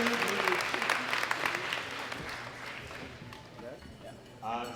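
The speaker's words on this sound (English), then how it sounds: "Round of applause, ladies and gentlemen," Audience applause at a powerlifting world championship medal ceremony: clapping is strongest at the start and thins gradually, with an announcer's voice and crowd murmur running over it.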